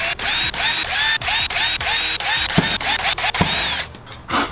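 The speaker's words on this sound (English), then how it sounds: "The first thing I want to do is drill my holes here against the side" A power drill whirs in short repeated bursts while drilling holes during a Toyota Tacoma car stereo install, about a dozen quick pulses with rising whines, close and loud, ending with a rougher grinding stretch.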